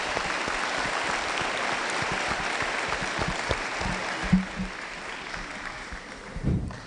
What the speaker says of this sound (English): why don't we just give a round of applause for y'all?